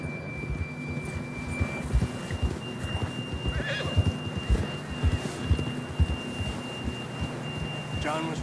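A horse whinnies and snorts in the western video game Red Dead Redemption II, its neigh rising over steady galloping hoofbeats and a low tonal drone, close and clear with no talk.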